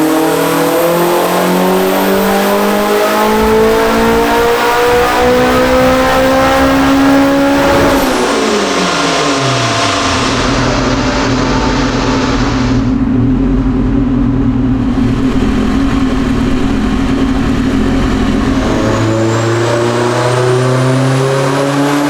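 Turbocharged Acura RSX engine on a dyno at 19 pounds of boost, revving loud and close: a long rising pull to high revs, a sharp drop as the throttle lifts, then a steady idle-like drone before another climb.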